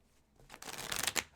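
Tarot cards being shuffled, a short soft riffle of papery flutters that builds to a few crisp bursts, faint and close with no talk.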